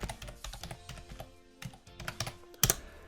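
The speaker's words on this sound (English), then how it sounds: "Let's just type in Minecraft" Someone types a search on a computer keyboard: a quick, uneven run of close, light key taps, ending with a louder, sharper keystroke like an Enter press.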